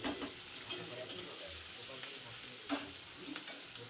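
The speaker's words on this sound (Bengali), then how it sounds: "আর এদিকে মাটনটা বসাবো, তার জন্য লোহার কড়াটা নিয়ে নিয়েছি" Mutton sizzling and being stirred in an iron wok, a steady frying hiss broken by scraping stirs and a few sharper spatters, close and moderately quiet.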